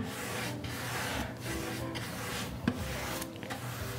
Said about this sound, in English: I'm going to do this first little bit and kind of rub it in like lotion all along there.